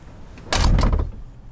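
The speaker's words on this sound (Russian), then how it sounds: "это то, как закрывается дверь." Door latch on a 2019 Volvo VNL 760 truck being shut: a single solid closing thump with a brief rattle of the latch, fairly close and loud against a quiet cab.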